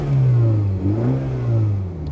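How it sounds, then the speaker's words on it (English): A 2017 MINI John Cooper Works convertible's 228-horsepower four-cylinder engine revs while parked, a loud close-up rising and falling drone in a few pulses with no talking. "I feel like a jackass revving the engine while the car's sitting doing nothing"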